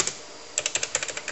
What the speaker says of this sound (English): every other key on the keyboard works exactly as it should